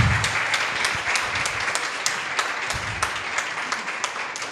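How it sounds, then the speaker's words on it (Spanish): An audience at a talk gives sustained applause, a dense wash of many hands clapping at once. Sharper individual claps stand out through it, and it continues evenly for several seconds before easing slightly. "me encantaría que la recibamos con un aplauso"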